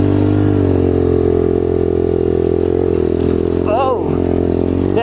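Apollo RFZ pit bike with its choke opened, engine running loud and steady close by with a sustained idle drone, then a brief rev that rises and falls near the end, while a person talks over it.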